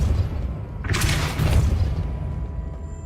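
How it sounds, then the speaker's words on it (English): A Repulso spell cast in the video game Hogwarts Legacy bursts out as a whooshing, booming blast about a second in, swelling over low rumble and fading away by the end. "Repulso."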